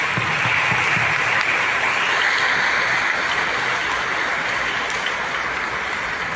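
Applause from a church congregation at a Sunday Mass, a dense, even wash of many hands clapping that holds steady and fairly loud for the whole stretch.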